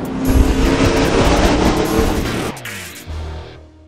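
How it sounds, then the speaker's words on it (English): A race car engine roars loudly at high revs for a few seconds, then cuts abruptly to a lower, rougher rumble near the end. "Bolide."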